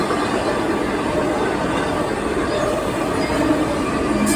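A freight train hauled by UP SD70M and CSX SD70 locomotives rumbles past on NS rails in Chesterton, Indiana, a steady loud roar of rolling wheels and cars with faint squeals, continuous throughout.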